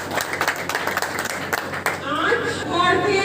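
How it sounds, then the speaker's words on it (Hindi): An audience at an outdoor political gathering claps loudly, dense rapid applause in the first seconds, then the clapping thins under a crowd murmur and a speaking voice. "सब फिर इसके लिए ताली बजा"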